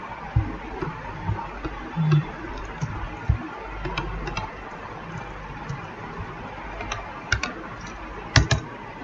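Keys tapped on a computer keyboard at a coding desk, scattered clicks in short irregular bursts with a few louder strokes, close and fairly quiet over a low background hum.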